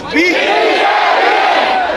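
A large crowd at a political rally roars a loud unified chant in answer to a leader, one sustained shout lasting the whole moment without pause.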